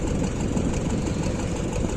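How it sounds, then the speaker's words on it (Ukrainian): A tractor engine runs steadily in the open countryside, a continuous low rumbling drone that stays loud and even throughout with no speech over it. "Видно, почула трактор."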